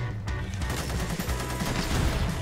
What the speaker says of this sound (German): Ey, wer schießt da? Wer ist da? Wer schießt da?